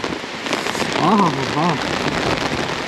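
Heavy rain falls in Jayanagar, Bengaluru, a dense steady hiss of drops on surfaces throughout, with a person talking over it in the middle.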